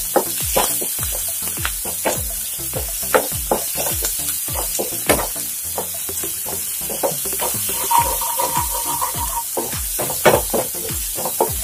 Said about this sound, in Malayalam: ഇതിലേക്ക് കുറച്ച് കറിവേപ്പിൻ്റെ ഇലയും കൂടി കൊടുക്കാം.